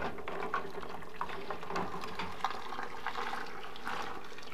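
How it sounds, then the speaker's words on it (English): Water bubbles and churns steadily in a pot of boiling water sterilising canning jars, with soft clinks and splashes scattered throughout, close by. "I've got boiling water over here and boiling my jars"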